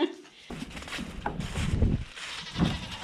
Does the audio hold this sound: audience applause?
no